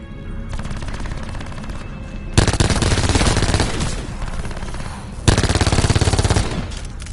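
Gunfire in a video game comes as loud, dense automatic bursts, with a sustained rattling volley, a short lull, then another heavy burst, close and overpowering.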